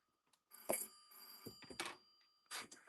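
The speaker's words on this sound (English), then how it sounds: "Oh, and the phone, which I totally ignore because it's normally on silent." A house telephone ringing, faint electronic trills in short bursts against a quiet room, with soft rustling in between.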